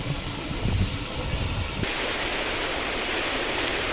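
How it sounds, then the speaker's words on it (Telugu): Floodwater spills over a bridge near Peddammaduru village in Palnadu district during heavy Andhra Pradesh rains, a steady broadband roar of rushing water that stays loud and constant throughout, with no voices. "పెద్దమ్మదూరు గ్రామం వైపు ఉన్న బ్రిడ్జు పై నుంచి నీరు పొంగిపొరులుతోంది"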